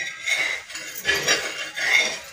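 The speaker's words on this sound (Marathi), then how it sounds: "कांदा आपण घेतला बघा. आता गोल असा चिरून" Kitchen knife slicing an onion into rounds for an egg omelette sandwich, heard as close, crisp cutting crunches and light clinks against the board in an uneven rhythm.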